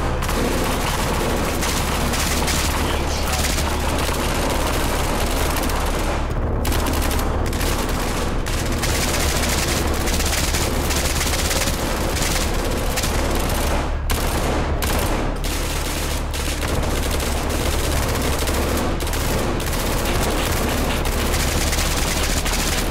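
Gunfire in the horror tactical shooter SCP 5K, dense and sustained rapid automatic bursts from several weapons overlapping into a loud, nearly continuous barrage with brief gaps, close and filling the whole stretch.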